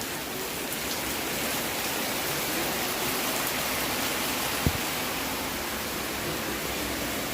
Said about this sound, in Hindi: अमरूद का पेड़ में बारिश का बूंद पड़ रहा है